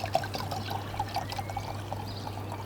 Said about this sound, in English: Right, I'll pour this out.